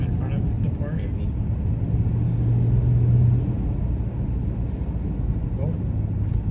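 A loud Acura drives close by in traffic, a steady low engine and road rumble that swells briefly in the middle, with people talking in the car over it.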